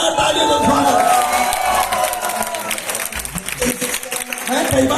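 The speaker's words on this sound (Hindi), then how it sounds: "जोरदार तालियों से स्वागत" Loud audience cheering and applause at a UPS family event launching a Nainital and Jim Corbett trip, a dense crowd roar with whoops and shouts sustained throughout, swelling again near the end.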